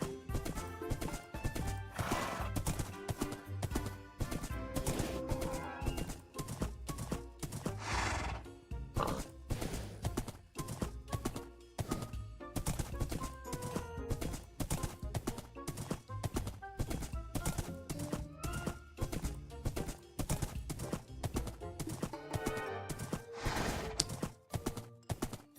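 Minecraft horse hooves clip-clopping in a steady, dense rhythm throughout, with occasional horse whinnies and neighs rising above, over a busy game backdrop with no talk.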